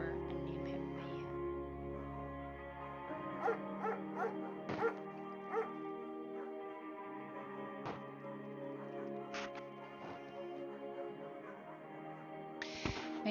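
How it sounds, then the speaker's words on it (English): German shepherd Mayhem from the game Firewatch gives several short barks and yips at moderate distance, scattered over a steady low hum. "Mayhem's an excellent dog."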